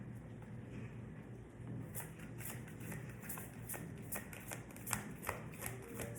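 Energy oracle cards are shuffled by hand, giving quiet, close riffling with a run of light taps and slaps that grows busier toward the end.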